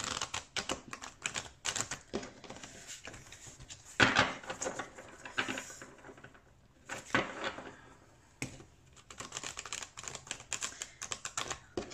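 Tarot cards shuffled by hand on a table: dense, rapid riffling and tapping clicks in close bursts, loudest around the middle, with brief pauses and no voices.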